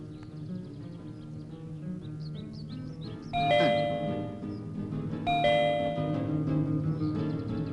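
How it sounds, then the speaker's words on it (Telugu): A calling bell at a house door rings, a clear electronic ding-dong chime sounding twice in succession, each tone ringing out and decaying over a quiet background. "పక్కనే కాలింగ్ బెల్ ఉంది,"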